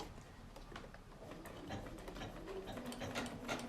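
A sewing machine stitches around a corner, a steady close run of fast rattling needle clicks with a faint hum beneath and no voices.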